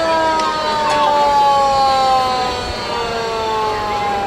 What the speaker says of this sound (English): So this is the 1924 La France engine.